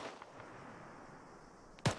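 A single heavy artillery round fires in a video game, one sharp loud blast near the end after a quiet stretch of low background hiss.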